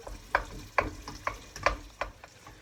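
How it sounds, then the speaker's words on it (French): A spatula presses and scrapes tomatoes in a frying pan for puttanesca pasta sauce, with about six rhythmic crushing strokes over a soft, close sizzle. "avec votre spatule, vous écrasez un petit peu les tomates"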